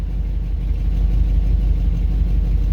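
A Buick car engine idles in gear with a steady, smooth low rumble, close and even, running alone without voices.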